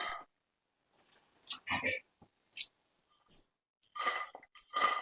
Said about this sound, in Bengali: তোমাদের আমি আওয়াজটাও শোনাচ্ছি। এতটা ক্রিসপি হয়েছিল।